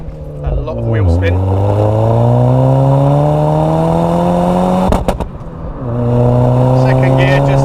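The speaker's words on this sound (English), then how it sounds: "Second gear, just hit the limiter." Saab 9000 Aero engine winding up hard through second gear to the rev limiter, a loud close rising drone that holds at the limit, drops briefly on a shift and climbs again, with no talk over it.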